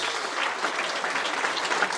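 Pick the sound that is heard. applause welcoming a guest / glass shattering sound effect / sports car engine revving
applause welcoming a guest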